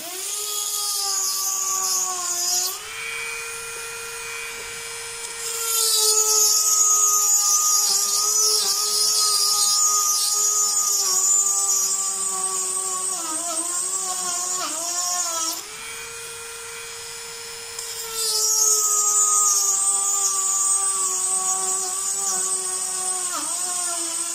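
An electric drill bores holes into different kinds of stone, a high whining spin that rises and dips as pressure changes, steady grinding stretches broken by brief easing-off moments, close and loud without speech.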